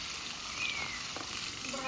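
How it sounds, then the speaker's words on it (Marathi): Onion paste frying in a pan over a village wood-fired stove while chicken is cooked, a steady close sizzle with faint stirring, and light talk in the background. "हे कांद्याची पेस्ट टाकणार आहे"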